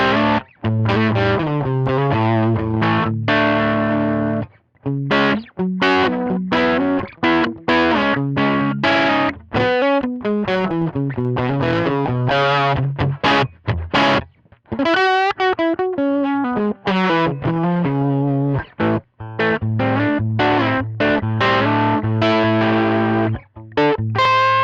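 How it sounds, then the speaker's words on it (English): Electric guitar with P90 pickups on the bridge pickup, through a small tweed amp model, with a warm, slightly gritty tone, plays a continuous run of single notes and chords, loud and close, with no talking. "here I'm playing my Vigier GV Wood with P90 pickups in it"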